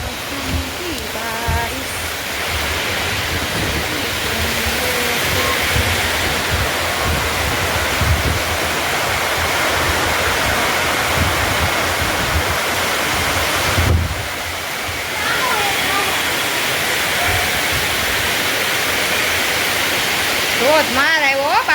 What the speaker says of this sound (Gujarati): જો પવન સાથે વરસાદ ધોધમાર ચાલુ થઈ ગયો છે